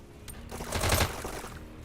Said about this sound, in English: Really good control of these SMGs.